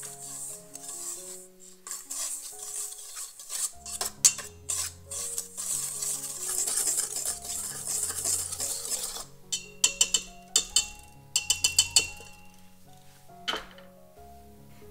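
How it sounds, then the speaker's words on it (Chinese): Flour, fine sugar and salt are stirred and scraped together in a bowl for babka dough, a soft gritty rubbing followed by a run of light clinks of a utensil against the bowl, with no voices. "加入细砂糖和盐， 将所有干料混合均匀。"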